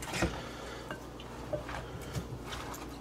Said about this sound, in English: we're just going to mix it all together. Basically just makes a big vegetable batter